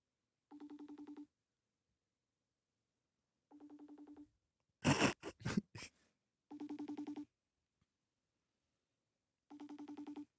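An outgoing phone call's ringback tone purrs in evenly spaced bursts with long silences between, quiet and distant, broken midway by a few sharp clattering handling noises.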